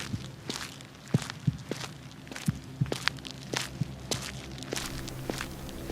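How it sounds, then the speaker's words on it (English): Slow footsteps move around outside a house at night, a series of distinct, separate thuds and scuffs at an uneven walking pace, fairly close, with a quiet steady background hum and no voices. "Then I heard footsteps."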